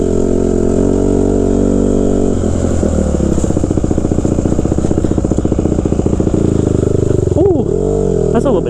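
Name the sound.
2014 Honda CRF 150R dirt bike engine during test ride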